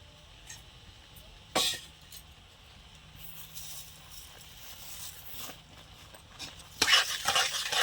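A spoon stirs a thick mango sweet mixture with sugar in a pan, giving a low, soft scraping under a faint background hum, with a sharp clatter early on and a louder burst of scraping near the end.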